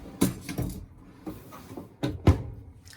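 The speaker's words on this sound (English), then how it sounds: "a nice large drawer underneath" A large drawer beneath the stove of a 2020 Palomino HS 2910 RV sliding and knocking, several close wooden bumps and thuds in an uneven sequence within a quiet room.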